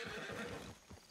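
A horse in the video game Red Dead Redemption 2 whinnies loudly while hooves clip-clop steadily beneath it, with no talking.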